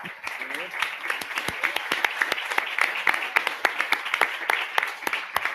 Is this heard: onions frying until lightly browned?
no